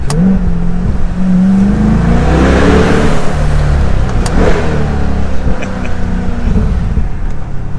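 A 2022 Chevrolet Corvette C8 R Edition convertible accelerating hard, its engine loud and close with rising revs and gear changes, the exhaust note sweeping up and settling across several seconds.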